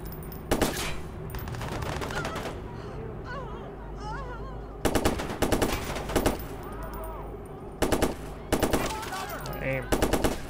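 Gunfire in the Watch Dogs video game: repeated loud bursts of automatic weapon fire arrive in clusters over a steady game soundtrack and ambience.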